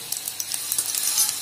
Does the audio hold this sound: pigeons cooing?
no